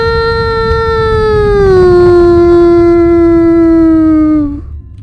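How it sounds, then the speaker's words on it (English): Moonless howl spell in the video game Fear & Hunger, a loud, long, wolf-like howl that slides slightly downward in pitch before cutting off, alone with no talking. "I was born to make the moonless howl."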